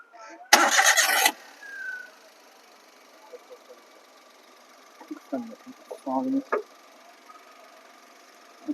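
A 2022 Maruti Alto car engine cranks and catches in one short, loud burst, then drops to a quiet idle. A person speaks briefly near the end.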